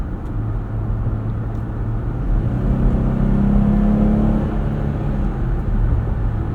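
A Jeep Gladiator Mojave X V6 with an 8-speed automatic strains under acceleration, a steady low engine drone that swells slightly midway and holds, heard from inside the cabin with no talking.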